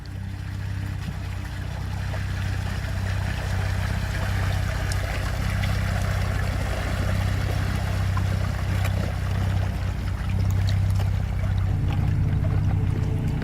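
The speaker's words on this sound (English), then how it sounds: "The water's already got into the cabin. You could hear it bubbling." Continuous gurgling and rushing of water pouring into the cabin of a car sinking through thin ice, under a low steady hum, loud and close throughout.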